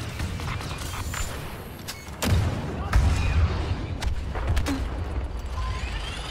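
Blaster fire from Raptors in the Star Wars Battlefront II video game: sharp shots crack at irregular intervals over a low rumbling battle backdrop, with some whooshing passes.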